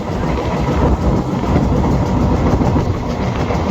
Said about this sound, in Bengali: তো প্রবেশ করে ফেলেছে আমাদের ট্রেনটি